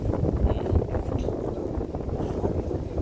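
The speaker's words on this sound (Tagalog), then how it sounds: "Pag humangin, umuugong." Wind hums and rumbles steadily through a newly built house that has no ceiling yet, a low, continuous, gusting drone with no clear pauses.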